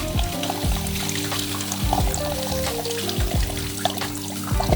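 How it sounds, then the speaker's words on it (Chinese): The brewing chamber of a T6 fully automatic coffee machine with a built-in fridge is rinsed under a running kitchen tap. Water splashes and pours continuously at moderate level over steady tonal background music. "我们把它取出来放到水龙头上进行全身冲洗"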